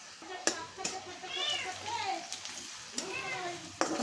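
Green chilies and turmeric frying in oil for a tempering, a steady close sizzle with a few sharp clinks and stirring knocks, under someone speaking throughout.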